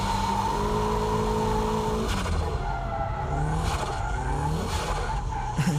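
Car braking hard into a corner too fast on a wet track during drift driving, tires squealing and skidding over a continuous engine drone, loud and close throughout.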